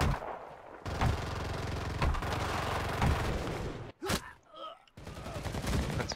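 Heavy gunfire and booming blasts in the WWII shooter Enlisted, a loud, continuous fusillade with periodic heavy thumps, briefly broken by a sharper burst and quieter gap before the barrage resumes.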